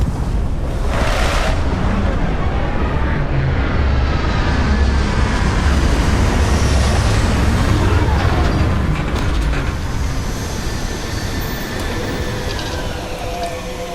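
A spaceship setting down during landing in the video game Starfield: a loud, sustained engine rumble with mechanical whirring and clanking, steady throughout and easing slightly toward the end.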